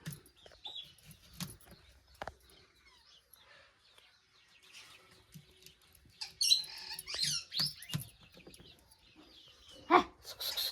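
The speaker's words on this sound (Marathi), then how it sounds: "कोंबडी फिरते." A hen wandering around a rural Konkan home, giving a few short clucks and squawks at moderate distance amid quiet surroundings and scattered household knocks.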